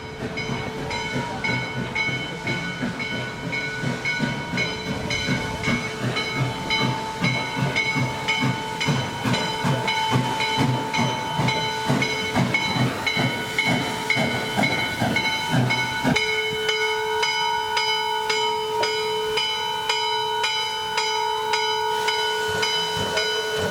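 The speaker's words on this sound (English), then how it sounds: "Finally, the train arrives in Frostburg, the final stop on the Western Maryland Scenic Railroad." Western Maryland 1309 steam locomotive arrives at Frostburg station, chugging with a rapid, regular rhythm under loud hissing steam, then slows and settles into sustained tones and a steady hiss.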